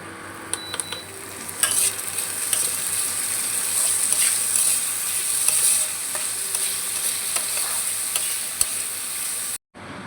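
A spoon stirs turmeric into a sizzling frying mixture in a pan for egg akuri, with steady scraping and crackling of hot oil, close and continuous, ending abruptly.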